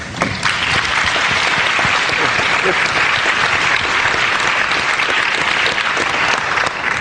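Audience at a debate between Christopher Hitchens and a Christian speaker at a book expo breaks into loud, sustained applause, dense clapping from many hands filling the room without pause.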